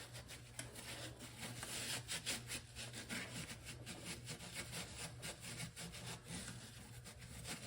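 Steady back-and-forth scrubbing and rubbing on a car intake manifold being cleaned of residue with carb cleaner during work on a 1963 Ford Falcon Sprint, close and continuous, with no talk.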